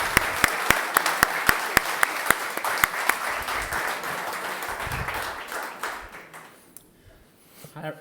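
After a reading at a writers' event, an audience claps steadily for several seconds, crisp individual claps standing out before the applause fades to near quiet and a voice begins.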